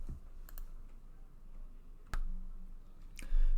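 Computer mouse clicks, three sharp isolated taps spaced about a second apart over a quiet room background.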